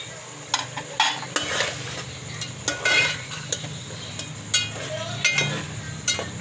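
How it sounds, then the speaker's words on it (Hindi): A spoon scrapes and clinks against a pot as potatoes are stirred into an aloo degi biryani, with a soft sizzle underneath and sharp metallic taps recurring every half second or so. "अब मैं इसमें डालूँगी ये आलू।"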